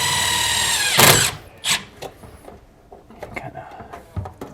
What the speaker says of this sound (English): I'm going to go ahead and shoot my self-tapper in